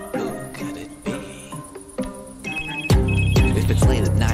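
A phone rings in the horror video game Scream with a repeated electronic trill that comes in bursts. Eerie music plays underneath, and the ringing grows louder and closer in the second half.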